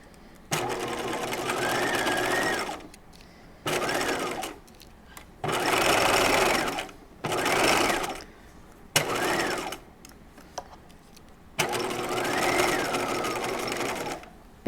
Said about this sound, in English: I'm going to use a long machine stitch